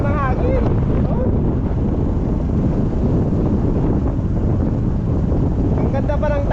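Strong outdoor wind buffets the microphone in a constant roar, with faint birdlike chirps at the start and end.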